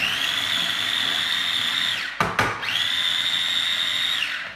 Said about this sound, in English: we're going to pop the herbs and the garlic and some of the onions in there, and I'm just going to whiz it up